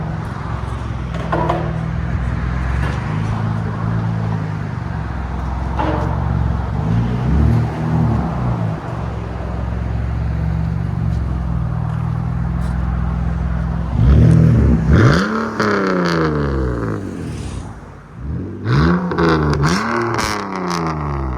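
A BMW Z3 with a 3.0L inline-six and a straight-pipe, muffler-delete exhaust idles with a raspy drone and revs sharply several times, the loudest bursts coming mid-clip and near the end.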